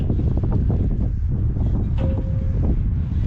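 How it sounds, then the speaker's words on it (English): Stiff wind roars steadily across an outdoor microphone at the Flight 93 Memorial park entrance, a loud continuous buffeting rumble with no pauses. "It's a pretty stiff wind today."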